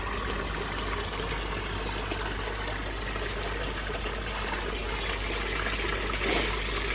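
Water pours steadily into an aquarium through a carbon filter, a continuous rushing, trickling stream at an even level throughout, with no voices.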